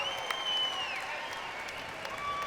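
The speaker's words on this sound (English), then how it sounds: "Getting a big round of applause inside the Burns Arena" Faint crowd applause inside a college basketball arena during a senior recognition, soft and distant, with squeaky high whistle-like tones drifting over the background.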